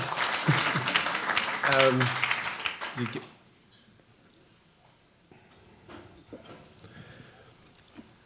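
Audience applause at an evening talk event in Dublin, a burst of clapping for about three seconds that quickly dies away, leaving a quiet room with scattered small sounds and a few spoken words.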